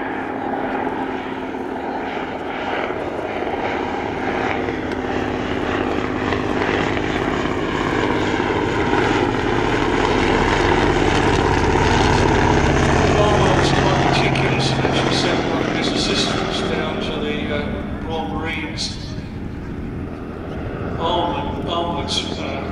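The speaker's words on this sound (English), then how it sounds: "beautiful aircraft. It flies very nicely." A vintage biplane flies past at the Shuttleworth evening airshow, its propeller engine droning loudly and swelling as it nears, then fading, while an announcer talks over it.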